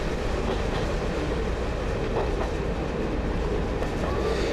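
A train on a preserved railway line rounding a corner toward Brooksbottom Tunnel, a steady, close rumble of wheels and carriages with faint clickety-clack and brief higher squeals over the constant roar.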